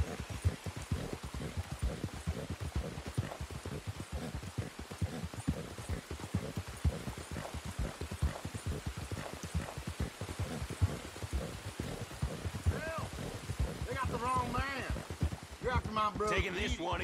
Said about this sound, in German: Jetzt fängt es wieder an zu regnen.